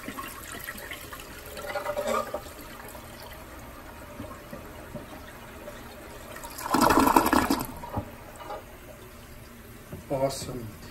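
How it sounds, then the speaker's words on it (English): A vintage 1933 black Kohler toilet flushes nearby, with a few clicks and trickles before a loud rushing burst of water that fades into quieter gurgling and refilling. "So that is the black Kohler toilet in action."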